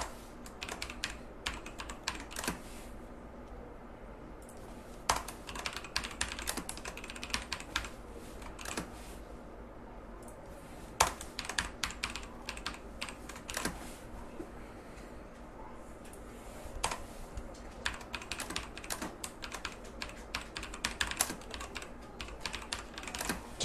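Rapid bursts of clicking keys on a computer keyboard, typing in irregular runs with short pauses, close and clear against a quiet room.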